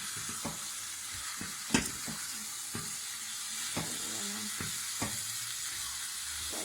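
Chicken korma marinated in yogurt, curry paste, salt and tomato paste is stirred in a pan over low gas, giving a soft steady sizzle broken by scattered spatula scrapes and knocks, one sharper clack near the start, with no voices.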